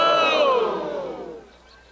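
A film crowd cheers and shouts in a loud burst that fades away over a couple of seconds, dense overlapping voices with no clear words.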